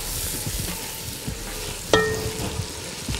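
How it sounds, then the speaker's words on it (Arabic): Vegetables and onion seasoned with salt and black pepper being stirred and fried, a close sizzle under repeated scraping strokes of a utensil in the pan, with one sharp metallic clink partway through. "قلبنا كده الخضار بتاعنا شويه، البصل عندي خلاص ابتدى يدبل"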